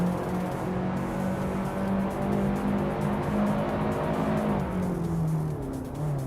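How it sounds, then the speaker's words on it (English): Engine of a 1980 Lotus Esprit Turbo race car in a racing video game, a steady droning whine that rises and falls slightly while the car drives continuously, with no talk. "Maya is driving a 1980 Lotus Essex Turbo Esprit, same as the leader."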